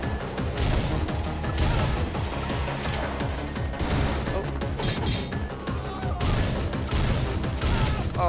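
Dense, loud volleys of gunfire from the video game Butcher, shots overlapping into a continuous crackling barrage that fills the whole stretch with no pause.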